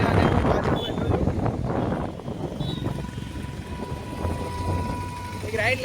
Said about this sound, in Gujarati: બાઇક ચલાવી રહ્યા છે અને હું પાછળ બેઠો છું.